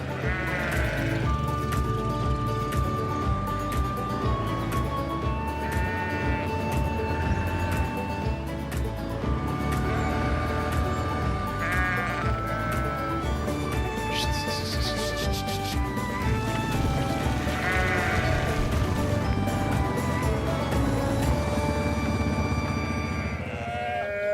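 Sheep bleat repeatedly, several animals calling over one another at close range, with a steady low rumble underneath.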